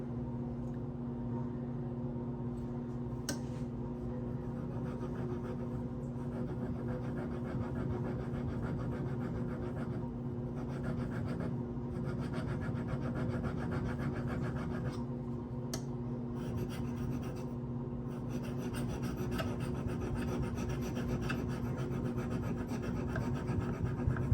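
A Protech TR-3 knife with a Magnacut steel blade scrapes steadily across a sharpening stone, a continuous close raspy rubbing with even back-and-forth strokes and a few brief pauses, no talking.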